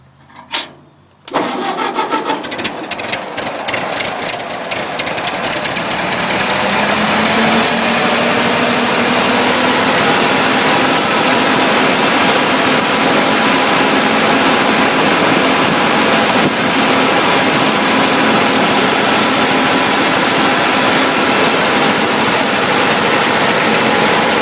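An old Ford 8N tractor with a choke applied cranks briefly, catches and roars into a loud, steady, rough-running idle that carries on close to the listener with no talking.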